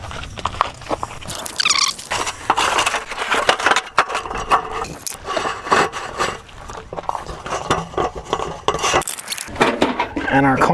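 A Coleman camping stove is handled inside a DIY camper van, producing irregular clattering, metallic knocks and scraping rattles, close and fairly loud, in busy bursts with short pauses.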